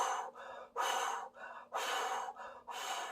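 Rapid, sharp gasping breaths performed by a voice mimicking an anxiety response, about six quick loud inhale-exhale bursts in uneven rhythm, close and alone with no talk.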